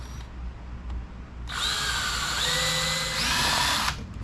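A power drill drives screws into a long wooden board, revving up loud and close for a few seconds of steady whine with a brief dip before stopping.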